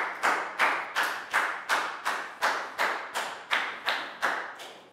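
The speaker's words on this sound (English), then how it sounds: "High five and a big round of applause for Dan, please, guys." A single person's hands clap about a dozen times in even, sharp beats inside a Year 4 classroom, crisp and close with no talking.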